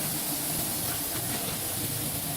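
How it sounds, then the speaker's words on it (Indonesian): Raw dried prawn crackers frying in hot oil give a steady, dense sizzling hiss that stays loud and constant throughout, with no talking. "Goreng kerupuk hingga berwarna sedikit kecoklatan."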